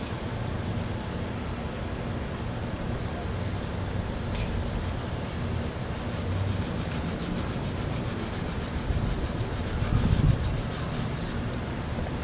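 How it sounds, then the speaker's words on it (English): A red Scotch-Brite pad scrubs steadily at the brush area of a Kohler 10 kW generator, a continuous soft rubbing rasp that stays even and close for the whole stretch with no voices. "The Scotch-Brite, these little red pads, is good for that."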